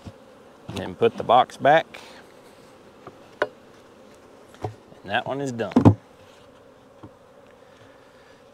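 Honeybees buzz as they are tapped and shaken out of a nuc box, rising in loud, wavering bursts up close, with quieter hum in between and a person talking.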